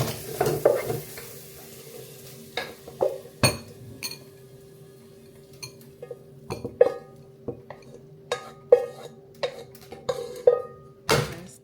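Breakfast cooks in a pot with scattered clinks of utensil on metal and soft stirring scrapes over a low steady simmer, the knocks coming in irregular bursts.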